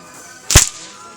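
A horse whip cracks once at a Hungarian equestrian park where csikós horsemen perform, one sharp loud snap, close and alone over a low background hum.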